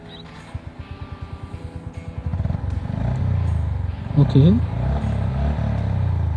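A motorcycle engine fires up with a steady rhythmic thump, then settles into a louder, steady exhaust idle, with a person talking briefly over it.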